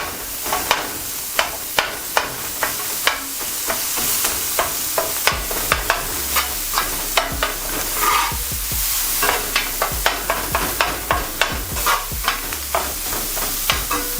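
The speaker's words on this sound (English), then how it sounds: "We're just gonna let those veggies saute for a minute or so." Chopped vegetables sauté in a lightly oiled pan with a steady, close sizzle, while a utensil scrapes and stirs through them in irregular clicks and knocks throughout.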